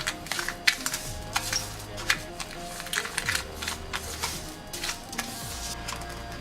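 Sugar and toothpaste are mixed together in a small bowl, making irregular close scraping and clicking taps with short gaps between strokes and no talking.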